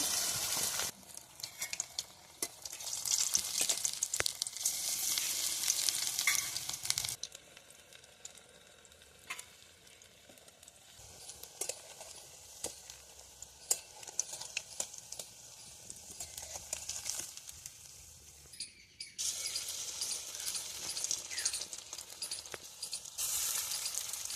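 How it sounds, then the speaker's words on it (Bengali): Pashkura-style banana flower chops (mochar chop) dropped one by one into hot oil fry with a loud, crackling sizzle that surges in strong stretches, eases to a quieter bubbling in between, then flares again; no talking. "এবারে একে একে আমি চপগুলো ছেড়ে দেবো।"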